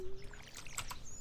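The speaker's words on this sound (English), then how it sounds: "that's the sound of the watering can" Watering can effect from Stardew Valley: a short watery splash and trickle with gentle bubbling blips, close and clear, lasting about a second.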